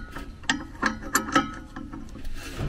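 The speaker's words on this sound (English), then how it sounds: "A little more torque on that set screw." Tightening a set screw on a replacement variable-speed HVAC blower motor, a series of sharp metallic clicks and ratcheting ticks in an irregular rhythm, close up, with no speech.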